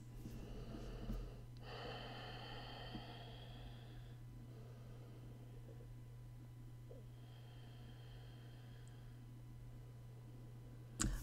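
Long, slow breaths drawn in and let out, two to three drawn-out airy inhales and exhales over a low steady hum, quiet and close.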